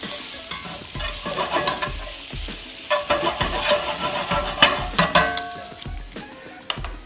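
Roasting potatoes tossed with a tablespoon of Creole seasoning in a hot pan, loud close stirring scrapes and clatters in quick, uneven bursts over a constant crackling sizzle.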